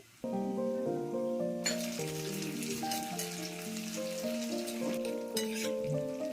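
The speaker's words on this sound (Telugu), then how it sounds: "తర్వాత కరివేపాకు వేసుకుని వేయించుకోవాలి" Green chillies and curry leaves fry in oil as a tempering for daddojanam, a South Indian curd rice offering. A steady, close sizzle starts after a quiet opening and continues under background music, with no talking.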